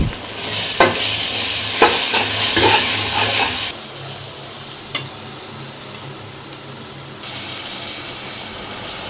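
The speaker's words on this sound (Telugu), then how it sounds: "అల్లం ఎల్లిగడ్డ పచ్చివాసన పోయేంత వరకు వేయించుకోవాలండి. ఇప్పుడు ఒక చెంచా పసుపు వేసుకోవాలి" Ginger-garlic paste, then turmeric, fries loudly in a pan, with brisk scraping stir strokes and a continuous sizzle that drops to a quieter hiss partway through.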